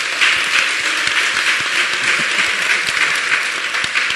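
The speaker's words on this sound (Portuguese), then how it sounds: "eu queria, por favor, uma salva de palmas à nossa saudosa" Audience applause at a Social Good talk in Brazil, a dense wash of clapping from many hands held at steady loudness for the whole few seconds, with no speech over it.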